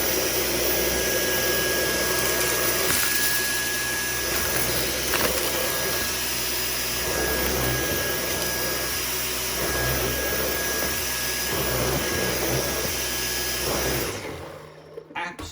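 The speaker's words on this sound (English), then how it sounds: "let's try this little bit of mess with the Dyson V10" A Dyson V10 cordless vacuum cleaner runs on max power picking up a dry mess, a loud steady whine and airy roar held close for about fourteen seconds before it switches off abruptly.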